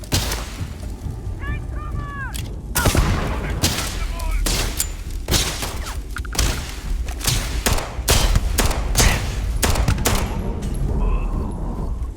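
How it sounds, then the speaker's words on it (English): A grenade goes off amid a firefight in Starfield, with dense bursts of loud, close gunfire and heavy booms coming in rapid clusters. Game voices and chatter break in between the shots. "Throwing grenade."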